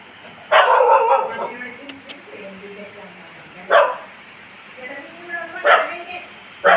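A dog barks in several short, loud bursts spread apart, with a person talking in between.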